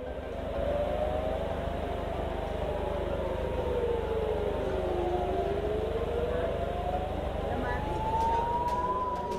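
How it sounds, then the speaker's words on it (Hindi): Air raid sirens wail across northern Israel, a steady rising and falling tone sweeping slowly up and down over a constant low rumble, continuous and fairly distant. "उत्तरी इलाके में लगातार हवाई हमलों के सायरन बज रहे हैं"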